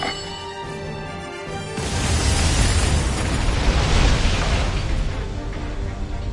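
Cannon fire and explosions in the Granblue video game: after a quieter musical opening, a loud booming eruption bursts in and keeps rumbling as a dense, sustained barrage of blasts to the end.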